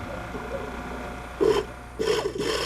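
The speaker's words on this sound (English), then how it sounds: "Using a pneumatic drill" A pneumatic drill bores core samples into reef coral during marine research, giving two short, harsh grinding bursts over a quiet background.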